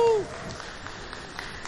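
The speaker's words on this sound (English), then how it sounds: "Applaudissez pour Karine." An audience at a fund-raising show gives a faint, steady round of applause after a brief tonal sound at the very start.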